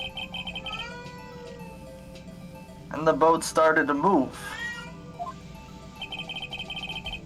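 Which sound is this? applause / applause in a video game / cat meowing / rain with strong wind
cat meowing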